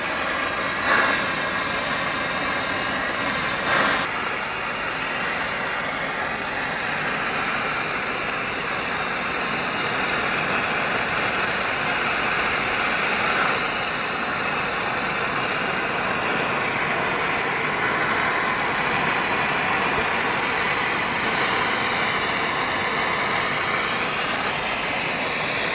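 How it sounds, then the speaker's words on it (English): A torch flame heats a copper pipe fitting for soldering, producing a steady, continuous roaring hiss that stays close and even throughout, with no speech. "I'm going to put the heat onto the fitting primarily."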